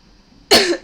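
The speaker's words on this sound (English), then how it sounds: "you're gonna hear a lot of coughs" A single loud, close cough bursts out after a quiet pause, followed by the start of a second, from a person with a raspy voice during a live stream.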